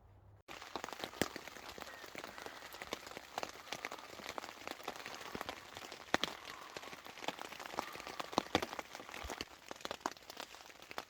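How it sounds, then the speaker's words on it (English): Heavy rain pours on a spring community camp at night, a dense, steady patter with sharp close drops striking a surface, loud and continuous with no talking. "It's raining. It's chucking it down."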